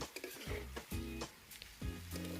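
Chicken pieces and potatoes sizzle in oil in a wok as they are stirred and fried for a desi boiler chicken dish, with soft scraping stirs breaking the steady hiss at close range.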